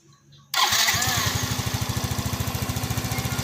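A Yamaha Fino 125 scooter that stutters and lacks power cranks briefly, then its engine catches and settles into a loud, steady, rapidly pulsing idle close by, with no talk over it.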